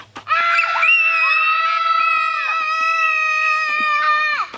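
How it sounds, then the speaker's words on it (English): A young person at a stream on a nature trail lets out a long, sustained high-pitched crazy scream lasting about four seconds, loud and close, wavering slightly in pitch before cutting off. "do the crazy scream"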